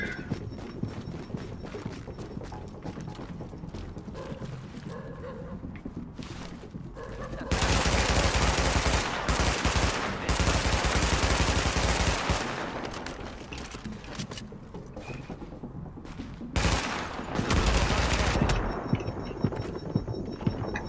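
Rapid gunfire in a video game, loud bursts of repeated shots in dense clusters, with quieter stretches of game noise between volleys.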